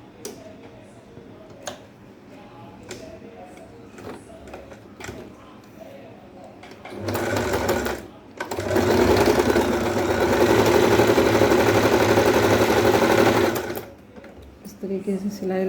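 A sewing machine stitches a fabric joint on a petticoat, starting with slow spaced ticks, then a brief whirring burst and a longer steady run of rapid stitching before it stops and the ticking resumes.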